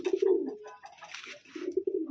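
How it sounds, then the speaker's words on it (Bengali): An old male Madrasi pigeon, about eight years of age, gives two close, low cooing phrases separated by a brief pause, clear and fairly quiet with no talk. "এই হচ্ছে নর পায়রা"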